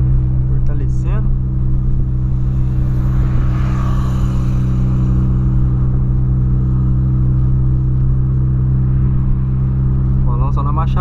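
A tuned VW Polo idles loudly with a steady deep rumbling drone that never lets up, with a brief voice heard near the start and the end.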